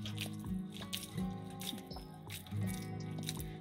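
Wet, squelching squishes as soggy cooked rice for arancini is squeezed by wet hands, several soft squeezes close up over faint background hum.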